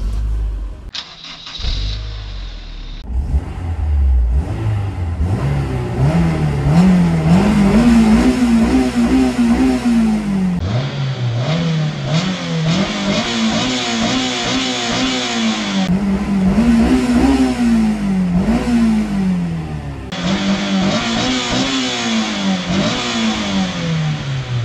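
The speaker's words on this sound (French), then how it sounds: "il est enfin temps de vous faire écouter ce beau moteur et prendre le volant" A Honda S2000, a Japanese roadster that revs to 9000 rpm, starts up with a cranking catch and then revs repeatedly, its engine note climbing and falling in several loud, close rises and settling to idle between them.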